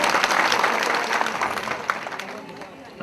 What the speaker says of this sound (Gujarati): એકવાર જોરદાર તાળીથી વધાવી લ્યો